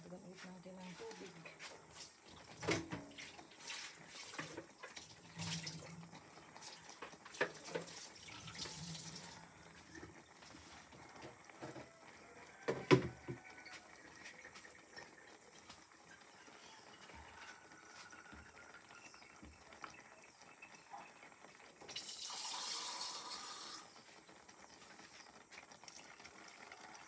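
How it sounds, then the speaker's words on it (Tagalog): Water is poured into a cooking pot of saluyot, heard as faint splashing and trickling among clinks and clatter of utensils, with a louder rushing burst near the end and someone talking intermittently. "Dagdagan ulit natin ang tubig."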